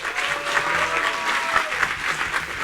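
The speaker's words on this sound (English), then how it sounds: "A round of applause." A round of applause breaks out from an audience at a business competition, dense and sustained clapping at moderate level with a faint tone lingering underneath.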